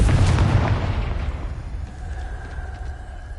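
A Confringo fire spell bursts in Hogwarts Legacy, a loud booming blast right at the start that decays into a fading rumble with faint magical ringing tones afterward.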